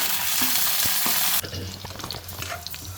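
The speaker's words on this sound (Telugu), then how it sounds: "పచ్చిమిర్చి వేయించుకుందాం" Green chillies sizzle and crackle in hot oil in a pan, a loud dense frying hiss that drops abruptly to quieter popping and stirring sounds partway through.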